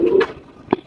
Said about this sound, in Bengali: কবুতর এইখানে একটা দেখাই, এটা গোল্ডেন, এটা গোল্ডেন পেয়ার আপনার।